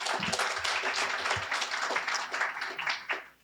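Audience at a college career pathways summit applauds volunteers, a steady spread of clapping from a room of people, moderately distant, tapering off at the end.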